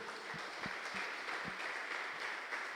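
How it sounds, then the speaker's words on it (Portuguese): Church congregation applauding at a Friday evening worship service, a steady wash of clapping from many hands filling the room, moderately loud, with a few faint voices calling out beneath it. "Aplauda bem forte o Senhor."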